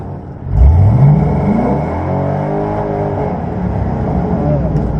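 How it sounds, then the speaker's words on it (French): A Ford Mustang engine revs up hard and stays loud as the car drifts on a track, rising pitch sweeps over a sustained roar, with voices faintly underneath. "J'ai remis du gaz."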